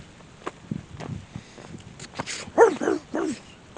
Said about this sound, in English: Those dogs were terrible.